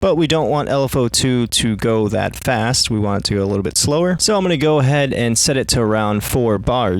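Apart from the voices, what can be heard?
None of the usual background noises is heard.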